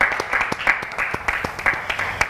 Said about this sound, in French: On accueille Madame Tissia sur vos acclamations, s'il vous plaît.